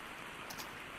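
Rain falling in the jungle survival game Green Hell VR: a steady, even hiss of downpour runs unbroken through the whole second, with no voices.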